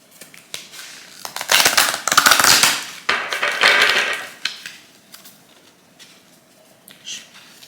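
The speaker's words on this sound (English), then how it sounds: "I'll shuffle them a few times." A close, crisp riffle of tarot cards in a couple of dense bursts, then quieter scattered taps and flicks as the deck settles.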